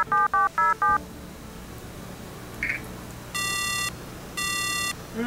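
A phone call goes unanswered. Four quick electronic dialing beeps come first, then after a pause two long, buzzy ringback tones repeat with a steady gap. There is no talking over it.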